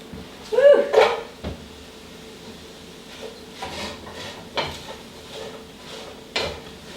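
Spinach is stirred in a pan over low heat, with a burst of rustling and scraping at the start followed by intermittent soft clunks and utensil taps against the cookware.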